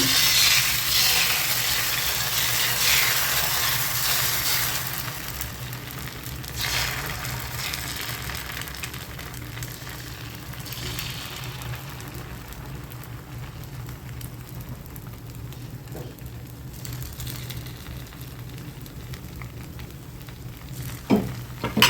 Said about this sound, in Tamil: கல் காஞ்சிச்சு ஊற்றிடலாம் ரவா தோசை எப்படி ஊற்றுவோமோ அதே மாதிரியே சுற்றிலும் ஊற்றுங்க